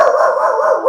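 A single drawn-out, howling bark from an indoor dog, loud and close, lasting nearly a second.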